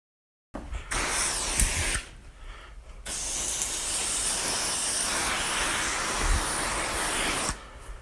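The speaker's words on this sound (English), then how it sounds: "I'm spraying with the garden hose" Water hisses steadily from a hose spray, broken by a couple of short pauses, close and continuous.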